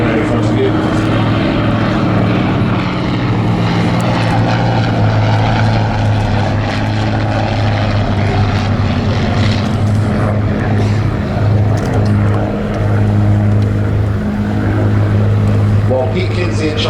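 Hawker Demon and Hind biplanes fly past at an airshow over Duxford, England, with a loud, sustained propeller-engine drone that swells and holds as they pass, under continuous commentary over a public address.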